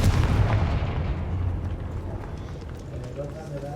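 Confringo fire spells blasting in the video game Hogwarts Legacy: booming explosive bursts with rumbling low impacts, loud and close, while someone talks over them.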